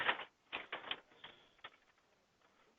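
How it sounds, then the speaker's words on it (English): A jammed printer grinding and clacking in irregular mechanical bursts, loud at first and then thinning to softer, sporadic clicks and whirs. "We have a printer jam."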